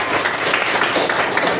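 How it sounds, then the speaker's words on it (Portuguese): A church congregation claps for Jesus during a service, a steady wash of loud applause lasting the whole moment without a break. "Uma salva de palmas para Jesus bem forte"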